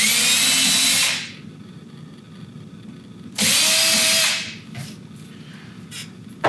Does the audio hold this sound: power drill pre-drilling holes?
yes